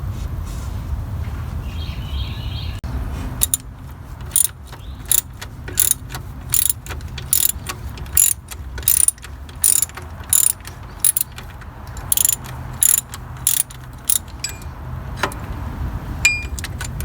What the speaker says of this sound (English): I'm going to go ahead and put my 15 millimeter on and loosen these two up over here